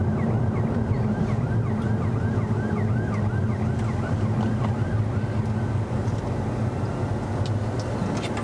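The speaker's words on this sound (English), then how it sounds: "Can hear some sirens, yeah," Emergency sirens wail in a repeating rising-and-falling pattern, moderately distant, over a steady low rumble of traffic.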